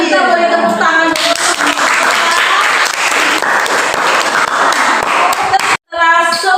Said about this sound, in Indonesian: Nah, kita boleh tepuk tangan dulu.